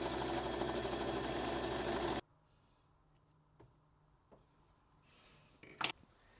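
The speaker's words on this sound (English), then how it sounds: "So I'm doing an edge stitch down the side of here" A sewing machine runs steadily and fairly loud while edge stitching down the side of a jacket, then stops abruptly, leaving a quiet room with a few soft clicks and handling noises.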